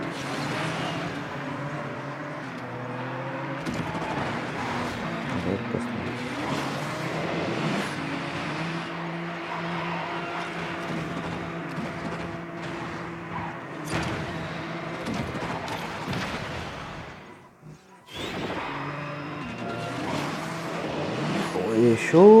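Race cars in the Asphalt 9 racing game roar continuously with revving engines and passing whooshes over game music, with a brief dip near the end before resuming loudly.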